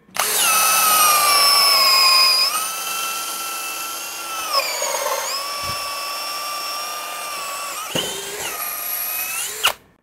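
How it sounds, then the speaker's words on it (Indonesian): Cordless brushless DongCheng impact drill driving a 13 mm auger bit into a 12 cm thick block of meranti wood, a loud steady high-pitched whine that dips and shifts in pitch under load, with brief pauses and restarts near the end. "Kita akan pengeboran begini guys."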